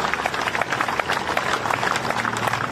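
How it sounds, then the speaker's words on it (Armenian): A crowd at an Armenian political gathering applauds, with a busy, crackling patter of many individual claps that stays steady and moderately loud, and a faint hum of murmuring underneath. "Ես խնդրում եմ մեկ անգամ եւս ծափահարենք մեր սիրելի գյումրեցիներին"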